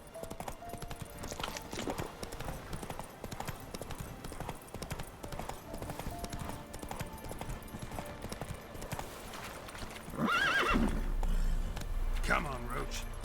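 Roach, the horse in The Witcher 3, gallops in a quick steady clip-clop of hooves, then lets out a high neigh near the end. Voices speak over the hoofbeats.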